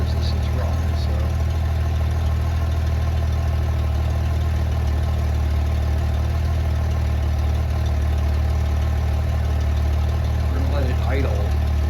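A 1994 Honda GL1500 Goldwing motorcycle engine idles steadily and loudly up close just after its first start in years, following a fuel pump replacement, a constant low drone throughout.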